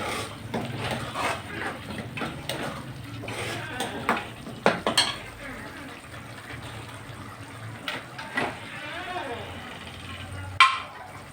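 Spoon stirring salt into a dish in a home kitchen while making kadhi pakora, with soft scraping and clinks of metal against a pot, steady and close, under a quiet background hiss.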